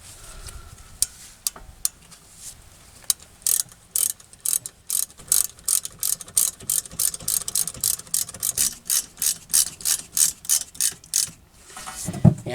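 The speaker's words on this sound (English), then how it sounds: "you can go ahead and tighten those down with that 7mm Allen wrench" Rapid ratcheting clicks from a 7mm Allen wrench tightening rear brake caliper slide pins on a 2006 Mazda 3, a steady run of close, sharp clicks in quick bursts, no talking.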